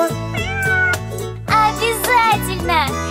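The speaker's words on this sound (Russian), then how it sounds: "Кто сказал за дверью мяу? Так, посмотрим, это кошка." A cat meowing in a children's animated cartoon: several drawn-out, wavering meows over a steady musical background, fairly loud and close.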